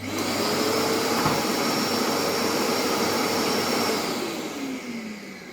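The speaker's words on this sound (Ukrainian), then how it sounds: "Пішло навантаження і автоматика вмикає автоматично пилосос" A vacuum cleaner switched on automatically under load runs as a steady, loud, continuous whirring drone that fills the whole clip, easing slightly toward the end; no voices.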